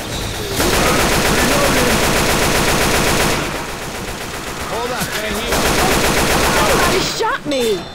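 Sustained automatic gunfire in the co-op zombie shooter Left 4 Dead 2, loud, rapid bursts rattling almost nonstop across the stretch with a brief lull midway, with voices cutting in briefly near the end.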